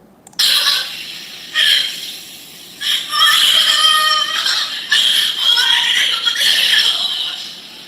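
Shrill human screams from a played news report about Bangladesh rise in several sharp bursts, loud and close, overlapping one another in a frantic chaotic stretch.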